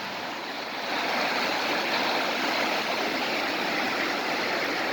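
Floodwater rushes through a normally dry, ten-foot-deep desert wash after a heavy rainstorm, a loud, steady broadband roar of churning water that holds constant throughout, with no voices.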